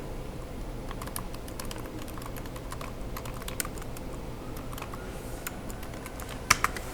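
Typing on a computer keyboard, a steady patter of soft irregular key clicks close up, with a couple of sharper louder taps near the end and no talking.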